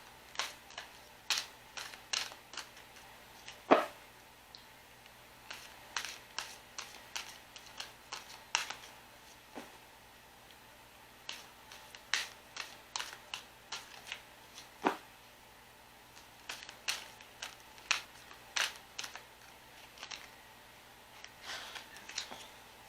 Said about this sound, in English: Let's just get a good shuffle.